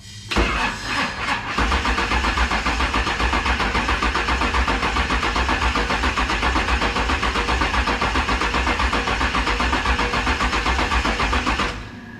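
A car engine with its fuel injectors unplugged cranks steadily on the starter for about eleven seconds, a loud, even, rhythmic churning that never catches, then stops abruptly.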